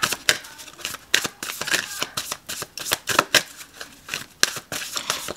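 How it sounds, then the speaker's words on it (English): A deck of cards being riffled and shuffled up close, a rapid series of crisp flutters and snaps repeating in quick bursts. "Let's shuffle."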